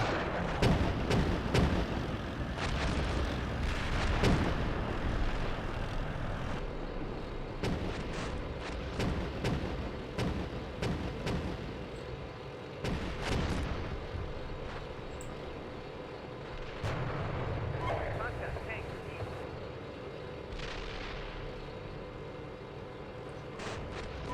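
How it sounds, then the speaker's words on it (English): Incoming fire in the Steel Beasts Pro PE tank simulator: dense, continuous booming artillery and gunfire with repeated heavy impacts and rumbling blasts throughout, loud and sustained, with no speech. "2-1, we're taking fire here"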